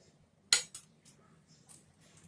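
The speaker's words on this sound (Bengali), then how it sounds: "5 মিনিট পরে ঢাকনাটা তুলে নিলাম।" A metal lid lifted off a cooking pot of tandoori chicken kabab, one sharp clinking clatter followed by a few faint metallic touches in a quiet kitchen.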